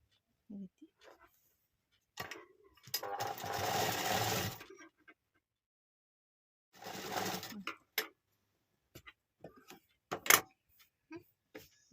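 A sewing machine stitches the front design of a dress or blouse in two loud runs of rapid whirring, one about two and a half seconds long and a shorter one after it, with small handling clicks and taps in the quiet gaps.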